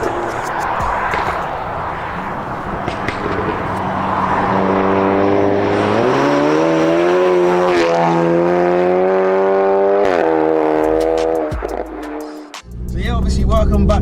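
A VW Golf GTI TCR Stage 2 with about 400 bhp drives on a road, its engine note climbing through several rising pulls of acceleration before dropping off. People talk over the engine.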